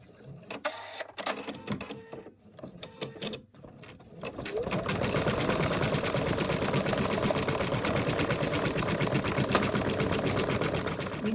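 An embroidery machine stitches a securing outline around an appliqué, running as a steady, dense mechanical patter from about four seconds on after a few sparse clicks and knocks.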